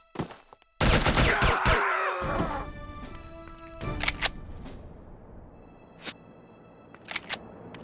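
Gunfire in the spy video game The Operative: No One Lives Forever, with a loud burst of rapid shots followed by a few scattered single shots and impacts, with no talk over it.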